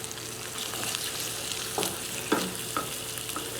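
Two eggs fry steadily in a pan for a fried egg sandwich, a continuous close crackling sizzle with a few soft clicks of utensils and no speech.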